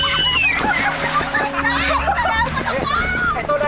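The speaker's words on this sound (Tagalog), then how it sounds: "Ang lakas nung hampas nung wave." Waves slamming against a moving speedboat off Bohol, drenching the passengers: loud continuous splashing and sloshing under excited voices talking and shouting.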